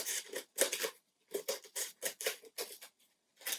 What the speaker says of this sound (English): take our scissors and trim around the edges